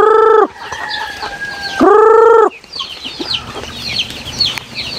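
Native chickens on a farm, two loud close rooster crows separated by a gap, with softer clucking and cackling from hens and chicks scattered throughout.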